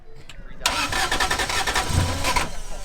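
A drift car's engine cranks and struggles to start: a sudden loud, rough, pulsing turnover that churns unevenly for about two seconds before dropping off, close by.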